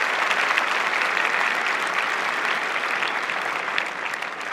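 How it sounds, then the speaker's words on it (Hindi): Loud, sustained applause from a large audience welcoming the Prime Minister at a student exam-discussion event, a dense steady wash of clapping that holds at full strength throughout. "इनको जोरदार तालियों से हम स्वागत करेंगे।"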